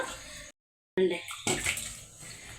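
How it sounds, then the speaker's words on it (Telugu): Dried anchovy-type fish are swished and rinsed in a bowl of water, giving close splashing and sloshing broken by a brief silent gap, then renewed watery handling. "ఇప్పుడు నేను ఇవైతే కడిగే చూపిస్తాను మీకు"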